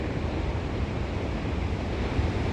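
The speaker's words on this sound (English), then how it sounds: "I'm trying to speak over the top of the Great Ocean and not doing so good" Ocean surf crashes and rumbles continuously along a powerful coastline, loud and close, with wind buffeting the microphone throughout and no voices.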